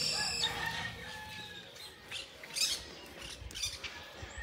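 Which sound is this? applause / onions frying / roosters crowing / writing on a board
roosters crowing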